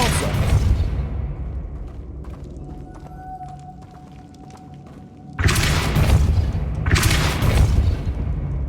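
Depulso spell in Hogwarts Legacy, a heavy whooshing blast that bursts in loud and close, then a second surge, rising out of a quieter stretch with a faint ringing tone beneath.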